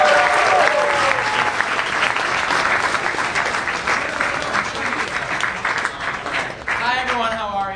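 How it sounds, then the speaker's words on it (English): Live comedy podcast audience giving a big round of applause for comedian Mateo Lane, dense sustained clapping for several seconds while a voice talks over the start and end. "Please, a big round of applause for Mateo Lane"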